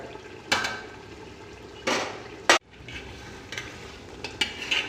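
Mutton curry, nearly tender, roasting uncovered in an open pot while a spoon scrapes and stirs it, giving a few sharp knocks and scrapes over a low steady background.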